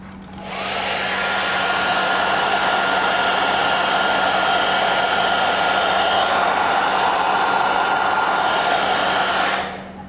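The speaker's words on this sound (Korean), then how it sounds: "드라이기를 이용해서 좀 노골노골하게 부드럽게 만들어준 상태에서" A hair dryer blows steadily at close range, heating a 3D printer film, switching on and running with a constant whooshing whir before cutting off near the end.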